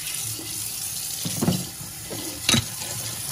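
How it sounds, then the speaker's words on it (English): Water runs steadily over freshly harvested mussels being washed at a beach, with a few louder splashes and clatters of shells partway through. "He's gonna wash them all."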